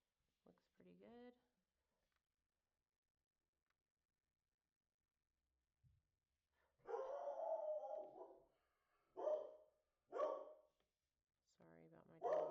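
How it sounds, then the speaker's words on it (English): A dog barks in several loud, separate bursts that come close together, with a short stretch of talking before them and another voice near the end, heard indoors during a pastel-on-ceramics painting lesson. "Sorry about my dog."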